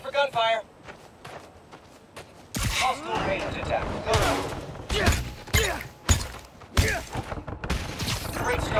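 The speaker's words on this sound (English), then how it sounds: "Watch out for gunfire." Rapid bursts of gunfire and impacts in Spider-Man: Miles Morales, sharp repeated cracks in clusters, with a voice speaking over the action.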